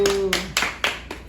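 Four slow, distinct hand claps at a Bible doctrine school camp, close and fairly loud, following a short vocal sound at the start.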